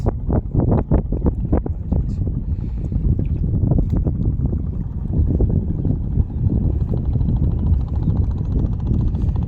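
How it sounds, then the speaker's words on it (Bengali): Strong cold wind buffets a fishing boat at sea in Bangladesh, a loud, continuous roar of gusts and microphone wind noise with rhythmic thumps early on, no talk. "প্রচুর বাতাস আর শীতের কোনো শেষ নেই একদম প্রচণ্ড শীত বাতাস"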